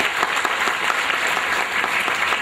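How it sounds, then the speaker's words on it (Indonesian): A church congregation bursts into steady, dense applause, many hands clapping together loudly and continuously without pause. "Tepuk tangan saudara."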